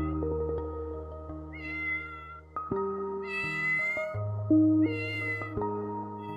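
A cat stranded after falling into a river meows repeatedly in drawn-out, fairly close cries, with steady low background hum underneath and no talking.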